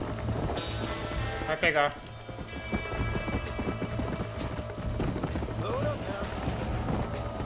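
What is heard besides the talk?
horse galloping in video game Red Dead Redemption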